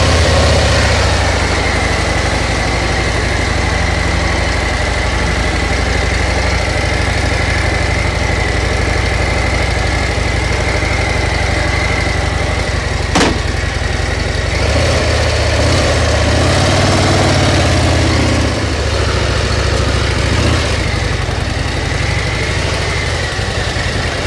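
A 2024 Harley-Davidson CVO Road Glide idles steadily up close, a loud continuous low rumble with even vibration throughout and one brief sharp tick partway through.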